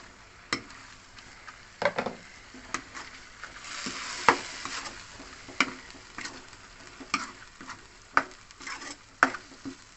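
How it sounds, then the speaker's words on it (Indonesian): Bruised galangal, lime leaves, bay leaves and asam kandis frying in a pan, stirred with repeated sharp utensil taps and scrapes over a low, steady sizzle, close by and with no talking. "Kita aduk terus pemirsa sampai tercium aroma wangi"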